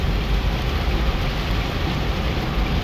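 Heavy rain pounds a car driving through deep floodwater on Molynes Road in Kingston, Jamaica, a dense continuous hiss and low rumble of water and tires that stays constant and loud throughout.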